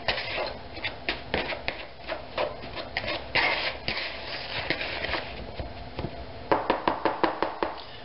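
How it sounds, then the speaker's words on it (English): Shortening being cut into flour for a gluten-free pie crust, a run of soft repeated chopping and scraping taps of a utensil against the bowl, close and irregular. "So we want to cut the shortening and the flour together."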